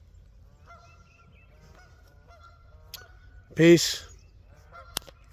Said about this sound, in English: Look at those geese out there swimming across the pond.